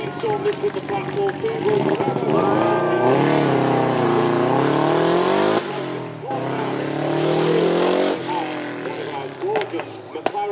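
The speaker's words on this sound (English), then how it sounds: "You can hear the turbo spooling away on that V8 mounted directly in the middle of the car." A McLaren 675LT's mid-mounted turbocharged V8 roars past, accelerating hard with rising pitch, turbo spooling and a brief gear-shift dip, loud and close, with a voice talking over it.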